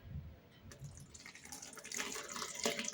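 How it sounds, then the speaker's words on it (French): A little water poured into a cooking pot while boiling okra, a faint soft trickle and splash that swells slightly toward the end, heard alone with no talk. "Je vais mettre un tout petit peu d'eau."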